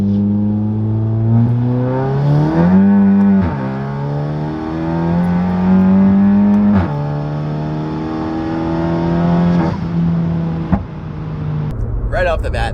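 Big-turbo VW MK7 GTI accelerating hard through several gears, its engine note climbing in repeated rising sweeps broken by shift pauses, loud and close, ending in a sharp burst of noise.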